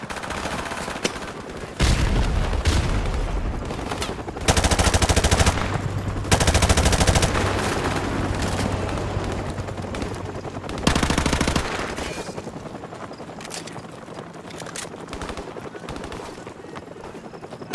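Intense gunfire from the Call of Duty: Modern Warfare mission Hunted, with long sustained machine-gun bursts and rapid rifle shots layered loudly over a battle soundscape, pausing briefly between volleys before fading into scattered distant shots.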